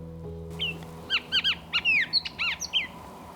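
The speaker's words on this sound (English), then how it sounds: "So we have a Bullock's Oriole here as well." Bullock's Oriole in chaparral giving a burst of clear, whistled, slurred calls, about a dozen short notes in uneven clusters, close and fairly loud over a quiet background with a low steady hum.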